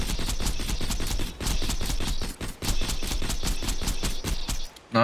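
Rapid automatic gunfire aimed at turrets in the video game Borderlands 2, a steady stream of fast repeated shots broken by a few short pauses, loud and continuous.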